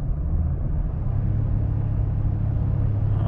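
A half-ton truck towing a trailer down a mountain grade in second gear gives a steady, loud, low engine drone as it holds back, with a constant rumble and no talking.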